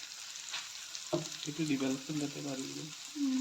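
Pork fries in a pan with ginger garlic paste and sesame, a steady close sizzle with stirring. Someone talks over it throughout.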